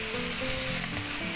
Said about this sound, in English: while we're cooking our 1/4 pound all beef hamburger here